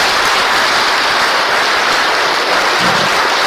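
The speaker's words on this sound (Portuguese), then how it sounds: "Dê uma salva de palmas a Jesus." A church congregation claps together in a loud, unbroken wall of applause, close and steady throughout with no pauses or speech.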